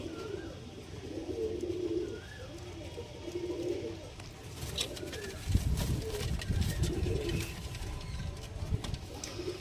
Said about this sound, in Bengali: এগুলো হচ্ছে গুন্টুরের পায়রা